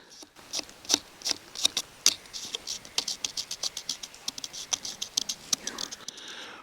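Hard, dried-out mushrooms being tapped on a branch in the Thai jungle near Pai give a steady run of small dry clicks and taps, close and crisp, with no talking.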